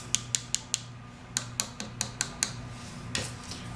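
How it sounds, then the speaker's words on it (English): A dry acrylic nail tapped against a surface, sharp little clicks in short bursts, close and distinct over a faint steady hum, no talk. "Okay, so this nail is dry now. You'll hear the clicking."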